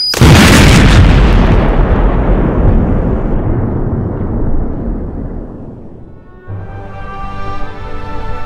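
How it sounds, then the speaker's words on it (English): A large bomb explosion in the Poppy Playtime video game erupts in a loud, sustained boom that rumbles and slowly decays over several seconds before a quieter, tonal game sound takes over near the end. "I think it's a bomb!"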